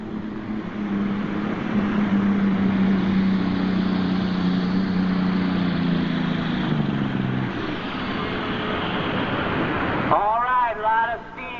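Dewey Kerr Jr.'s Plowboy's Nightmare pulling tractor from Springfield, Ohio, competing in the 1995 NTPA 7500 super stock class at Urbana, Ohio, drones with a loud, sustained engine roar that fades after several seconds, while an announcer talks over it.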